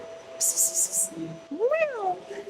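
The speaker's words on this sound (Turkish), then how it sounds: "Tesisin kedisi var galiba. Çok tatlı bir kedi." A cat at a sports facility gives one clear, rising-then-falling meow, close by, after a quick run of high chirping sounds.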